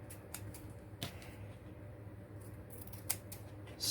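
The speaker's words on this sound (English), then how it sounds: "straighten it up with my scissors" Scissors trim the edge of paper for a spring journal, with a few crisp close snips spaced irregularly over a quiet room hum.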